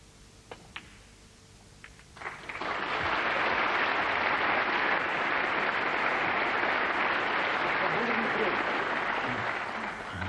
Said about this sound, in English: Generous applause from this audience.